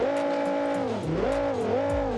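In BeamNG.Drive, a car engine, a 9.0L Viper or 5.2L Mustang, revs in repeated rising and falling sweeps, a loud close mechanical whine climbing and dropping several times in quick succession with no talk.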